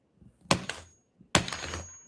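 Two sharp smashing blows break a camera and its glass lens into small shards, each a loud crack followed by brief rattling debris, with a pause between them.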